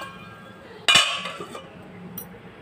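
A lid set down on a clay pot of thick tamarind curry, giving one sharp ceramic clink followed by a brief rattle that fades into quiet kitchen background.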